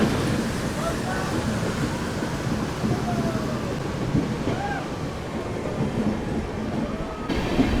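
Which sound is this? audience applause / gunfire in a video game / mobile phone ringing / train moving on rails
train moving on rails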